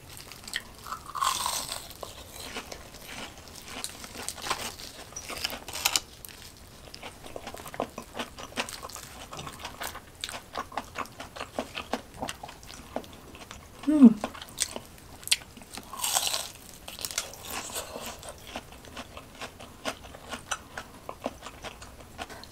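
Someone bites into crispy, oversized BBQ shrimp sticks with a golden fried coating, making scattered close crunches and chewing sounds. They are soft and intermittent, with quiet pauses between bites.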